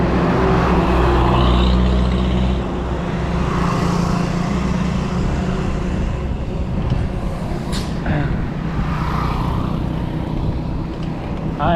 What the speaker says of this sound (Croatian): Tako, pazi, to je kamion.